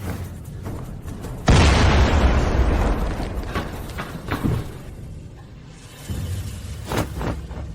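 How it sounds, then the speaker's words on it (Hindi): A violent blast erupts inside a building amid chaos, a loud sudden boom followed by a long rumbling roar that slowly fades, with further thuds and crashes trailing after it. "यहाँ हर जगह विस्फोट हो रहे हैं।"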